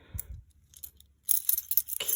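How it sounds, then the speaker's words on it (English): A large bunch of keys jangles in short metallic bursts, starting faint and growing louder and busier near the end, close by with no talking. "I have a lot of keys on this thing."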